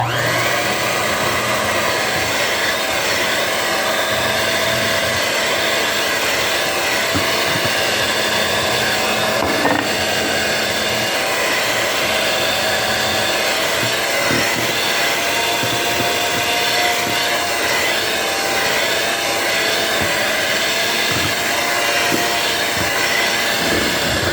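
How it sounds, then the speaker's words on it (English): An electric mixer runs steadily at high speed, whisking vanilla extract and salt into Italian buttercream, giving a continuous loud whirring drone that barely changes throughout. "we're going to go ahead and whisk in our vanilla extract as well as our salt"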